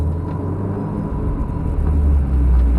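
A manual-transmission car engine as the clutch is slowly brought up, a steady close low rumble that grows slightly heavier toward the end.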